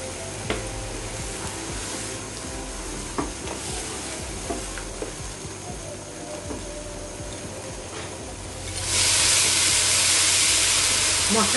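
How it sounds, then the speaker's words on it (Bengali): Masala paste of almonds, cashews, peanuts, poppy seeds and melon seeds for a beef malai kofta gravy frying in a pan, a steady close sizzle with stirring scrapes that swells into a louder hiss near the end. "মশলাটা খুব সুন্দর করে কষানো হয়ে গিয়েছে।"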